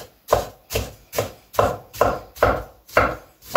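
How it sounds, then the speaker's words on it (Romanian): Tomatoes being chopped into cubes with a knife on a cutting board, eight even, rhythmic thuds about every half second, close and clear with no talking. "roșiile le tăiem cu bulețe"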